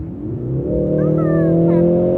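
A 2024 Mercedes-AMG C63 S E-Performance engine revs up loudly and holds a rising, droning roar, with faint voices in the background.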